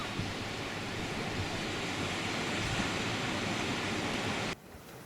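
Waves crash continuously against rocks below a Hebridean cliff edge, a dense, steady roar that cuts off abruptly near the end.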